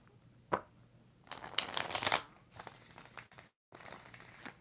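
Tarot cards being shuffled by hand in a quiet room: a soft isolated riffle, then a dense, loud burst of papery rustling and flicking, followed by lighter intermittent card shuffling, with no talking.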